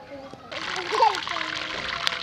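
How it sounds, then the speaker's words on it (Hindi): Oil pours into a kadai with a splashing, trickling rush that starts abruptly and then continues steadily, close and moderately loud, while a voice talks over it. "कढ़ाई में ऑयल डाल लेंगे।"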